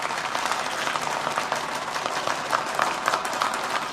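A crowd applauds at a prize distribution ceremony at an annual function in Mumbai, giving a dense, steady wash of clapping from many hands that holds an even level throughout, with no clear voices above it.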